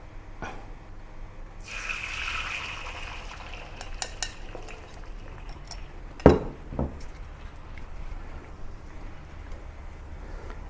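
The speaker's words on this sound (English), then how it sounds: "Heat some vegetable oil in a pan or a wok. Then pour the egg mixture into it." Beaten egg with preserved radish hitting hot vegetable oil in a wok, a sharp sizzling burst that settles into a steady crackle, with a few light utensil clinks around it.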